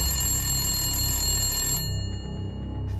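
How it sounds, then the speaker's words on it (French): Telephone ringing at midday in a house among vineyards near Épernay, a steady, fairly loud electronic ring that carries on without pause and then drops away. "le calme est brisé par un coup de téléphone"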